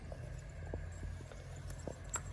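Horse hooves clip-clop in a steady walking rhythm, fairly faint, over a low rumbling background, from a horse in new harness.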